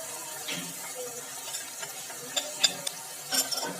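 Spices frying and being stirred in a pan for matar chole, a soft steady sizzle with light scraping and occasional clinks of a spoon, close and quiet, with no talking.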